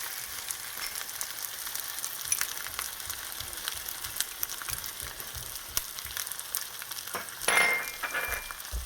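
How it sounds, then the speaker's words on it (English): Garlic and ginger, added to onions, fry quickly in a pan with a low, steady hiss and scattered light crackles, with a brief scrape of stirring near the end. "I'm going to add the garlic and ginger. Let that fry quickly."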